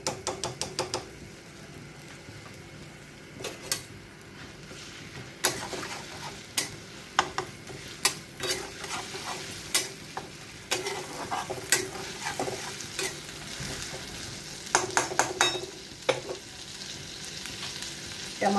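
Ginger garlic paste fries in a hot pan for a Rohu fish curry, a constant sizzle broken by repeated sharp clinks and scrapes of a spoon stirring against the metal.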